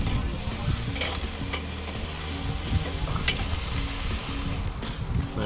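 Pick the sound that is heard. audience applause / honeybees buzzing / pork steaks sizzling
pork steaks sizzling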